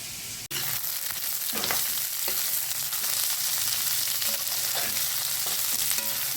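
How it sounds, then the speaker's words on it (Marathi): Onion fries in a pan with a continuous close sizzle and crackle, with a few louder spatters and stirring scrapes along the way and no talk. "अशा प्रकारे आपला हा कांदा फ्राय होत आहे."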